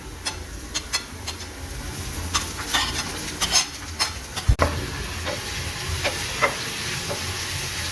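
Steady sizzling of garlic and ginger paste frying with onions in a pan, with a utensil scraping and stirring in irregular clicks and knocks throughout.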